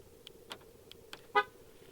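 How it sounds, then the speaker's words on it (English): A car horn gives one short chirp as the car is locked outdoors, after a few faint clicks. "I locked the car."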